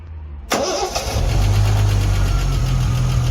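A Triumph TR6, freshly rebuilt with an unleaded cylinder head conversion, cranks briefly on the key and catches, then settles into a loud, steady idle close by with no talking.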